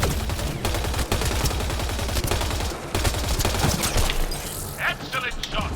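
Rapid, dense gunfire and explosive bursts from the sci-fi shooter Mass Effect Andromeda, loud and continuous with overlapping shots and booms throughout, mixed with game music and effects.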